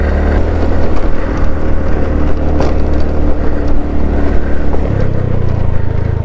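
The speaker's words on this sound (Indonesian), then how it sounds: "yuk kita bawa naik motor ini, yuk" A Honda Scoopy scooter being ridden on a long road trip, its small engine giving a steady, loud drone with wind rush throughout, close and continuous.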